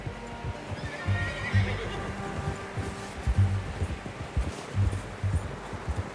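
A horse in Red Dead Redemption 2 whinnies loudly over a steady clip-clop of hooves on a dirt path, with rustling and light ambience around it as the animal keeps moving.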